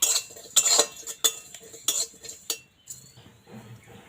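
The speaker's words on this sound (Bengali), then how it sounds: "এটা শুকনো খোলায় ভাজা লাগবে এটা দিয়ে দুই তিন মিনিট নাড়ানোর পরে এটা নামানো লাগবে" A spoon stirs whole fennel seeds, cumin and other spices dry-roasting in a pan, making a series of sharp metallic clinks and scrapes at an uneven rhythm, close and fairly loud, with no talking.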